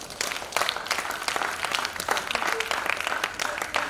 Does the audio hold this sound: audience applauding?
yes